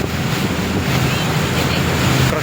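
Waves wash at Nagarjuna Sagar reservoir, the dam on the Krishna river, mixed with loud buffeting wind on the microphone. The result is a dense, constant rush with no voices.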